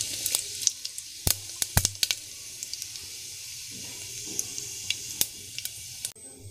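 Cumin seeds sizzle in hot oil in a home kitchen, a steady soft crackle with sharp pops and clicks scattered throughout, close and fairly quiet, with no voices.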